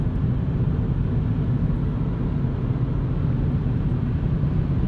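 A 2019 Kia Ceed cruising on the freeway, heard from inside as a steady, dense low road and engine rumble with no voices.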